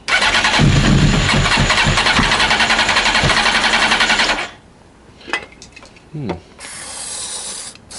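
A Honda CBR 900 Fireblade motorcycle with running problems cranks and sputters loudly and close for about four seconds, then cuts out, leaving a few quiet clicks and handling noises.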